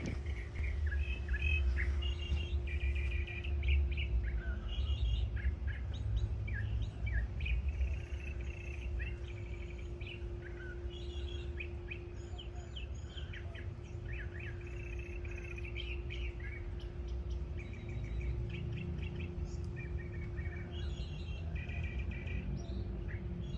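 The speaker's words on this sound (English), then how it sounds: "Listen to this bird." A wild bird sings repeated bright chirping and trilling phrases over about twenty seconds, moderately near, over a steady low hum and faint background insects.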